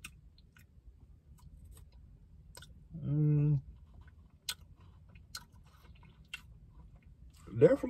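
Crunchy chewing of a KitKat Blueberry Muffin bar comes as scattered sharp, close crunches and clicks across several seconds, with a brief hum of voice in the middle.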